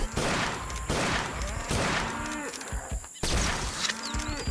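Rapid gunfire in Cabela's African Adventures cracks out in several loud bursts of quick shots, mixed with animal bellowing and grunting, with brief pauses between volleys.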